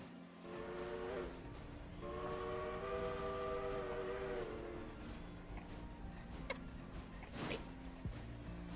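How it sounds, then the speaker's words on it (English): A train rolls along in the railroad simulation game Railroader, with a steady engine rumble and a sustained whistle-like tone rising and fading across the stretch, plus a brief sharp burst near the end; no one talks. "Oh, I hear a train moving."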